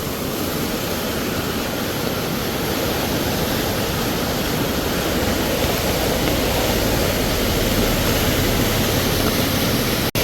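A powerful, unbroken roar of rushing floodwater in a river by a bridge in Idukki, Kerala, fills the scene, loud and steady throughout, with no voices.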